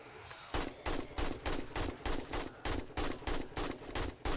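Rapid automatic gunfire during horde night in 7 Days to Die, a steady string of loud, evenly spaced shots after a brief quiet start, with no talking.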